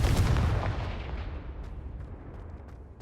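Spell blasts from the video game Hogwarts Legacy: a loud booming burst opens, then rumbles and crackles away as it fades over a few seconds, with faint sparkling ticks above the low roar.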